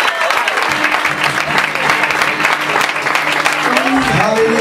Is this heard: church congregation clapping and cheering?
yes